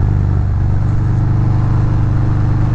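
A 2019 Harley-Davidson Fat Bob with a 114 engine pulls hard under acceleration, giving a loud, deep, pulsing rumble that holds close and steady throughout with no voices.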